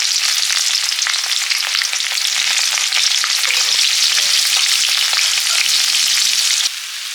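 Panch phoron, bay leaf, onions and chili frying in oil as a tempering for masoor dal, a loud, dense and steady sizzle close by that drops off abruptly near the end.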